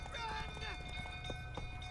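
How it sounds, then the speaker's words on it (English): A horse gallops in The Witcher 3, its hooves beating a quick, steady clip-clop rhythm with a few snorting breaths, while someone talks over it. "Okay, we'll set the horse going a little bit quicker."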